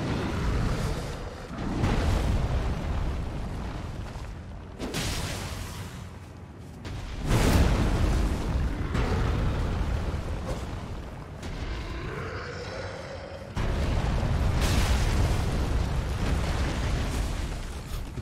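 Big explosion in Elden Ring, heard as a series of heavy booming blasts and rumbling bursts that swell and fade across the stretch, loud and close.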